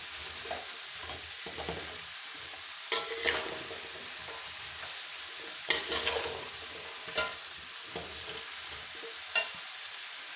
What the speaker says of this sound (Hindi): मैंने इस गाजरों को कुकिंग ऑयल में बहुत अच्छे तरीके से रोस्ट कर दिए